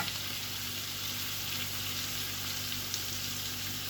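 Breaded chicken panée laid flat in a pan of hot oil sizzles and crackles steadily, a bright continuous frying hiss with faint pops, fairly close and with no talking.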